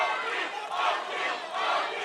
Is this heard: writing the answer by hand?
no